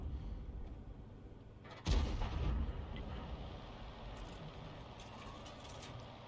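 A single heavy artillery round fires in a war video game, a sudden deep boom that rolls off into a long rumbling decay over a steady low background.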